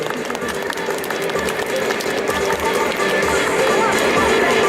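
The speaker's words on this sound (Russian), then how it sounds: "Аплодисменты, аплодисменты." An audience at a circus pet show applauds in a steady, dense wash of clapping, mixed with crowd noise and background sound that continues throughout.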